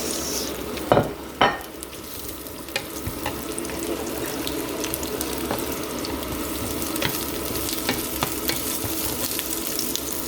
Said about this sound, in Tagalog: And then igisa na natin ang bawang sibuyas guys.